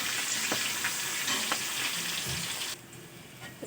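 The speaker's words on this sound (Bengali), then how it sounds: "পেঁয়াজটা লঙ্কাটা একটু লাল লাল করে ভেজে নেব।" Chopped onion and green chilli fry in a pan for a rural-style Bengali dish, a loud, steady close sizzle with faint stirring that drops a little in level near the end.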